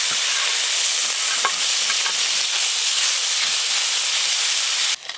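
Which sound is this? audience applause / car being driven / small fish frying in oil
small fish frying in oil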